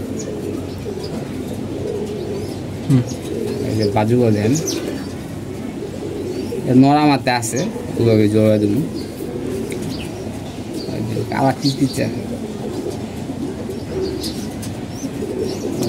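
Pigeons coo in a loft of old-breed racing birds, with soft repeated throaty calls, a few louder bursts, and someone talking over them.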